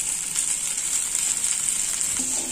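Chicken chars on a stovetop grill pan with a steady, close hiss of sizzling fat that holds level throughout, with a faint low scrape near the end.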